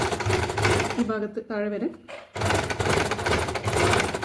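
Domestic sewing machine stitching a kurti shoulder seam, a rapid continuous whirring chatter from close by that pauses for about a second midway, with someone talking over part of it.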